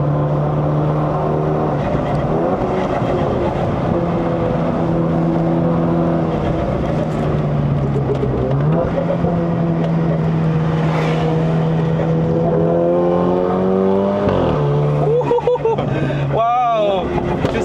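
A BMW F22 220i on a Genting hill run, its engine revving hard in S mode and climbing toward 6,000 rpm with rising harmonic tones and shift dips, loud and close from inside the cabin, with people talking over it.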